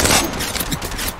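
Gunfire in Apex Legends Mobile, a dense, loud stretch of rapid overlapping shots and impacts that runs continuously throughout.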